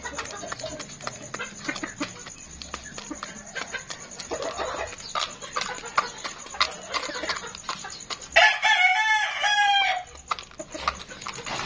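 A Boston Roundhead gamecock rooster lets out one loud, close crow partway through, standing out over a busy backyard of softer clucking and scattered bird sounds.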